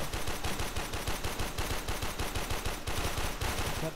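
Rapid automatic gunfire from the Warframe video game rattles on without pause, loud and dense, with no voices over it.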